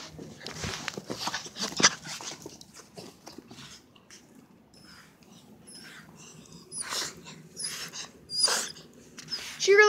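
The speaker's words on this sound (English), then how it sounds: "Do you guys remember my dog, Lizzie?" Pet dog close by, whimpering, sniffing and breathing in short irregular bursts with high whines and snuffles between quieter gaps, indoors at home.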